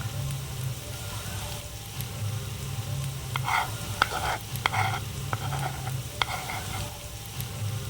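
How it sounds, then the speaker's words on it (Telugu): Garlic and onions softening in a pan for a moong dal and cluster bean fry: a low steady sizzle with a run of sharp spatula clicks and scrapes in the middle, close and without talk. "వెల్లుల్లిపాయ వేసి కాసేపు మగ్గనివ్వాలి."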